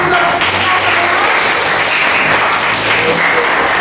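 Students in a chemistry classroom applaud together, a dense, steady burst of clapping close by that lasts the whole moment.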